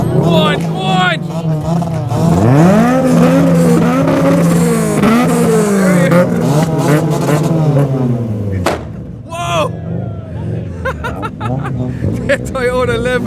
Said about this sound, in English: We're all revving here now.